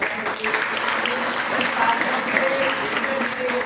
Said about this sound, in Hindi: एक बार उनको ये जोरदार तालियां